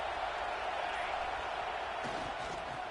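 A Buckeye crowd roars in a packed college football stadium during a third-down play, a steady dense wall of cheering that holds loud and unbroken throughout.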